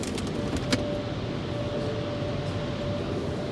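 An Oasis XP car wash machine at an Esso/Circle K in Markham moves back along a car, giving a steady mechanical hum and rumble with a faint whine and a brief clank near the start.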